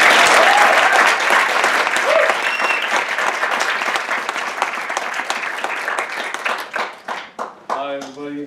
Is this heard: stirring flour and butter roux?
no